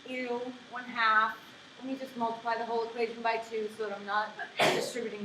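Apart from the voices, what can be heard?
sneeze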